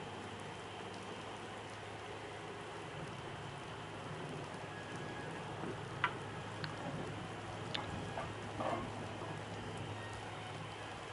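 Steady soft rain falling in the game Oblivion, a continuous gentle patter with a few faint ticks and drips standing out briefly, no voices.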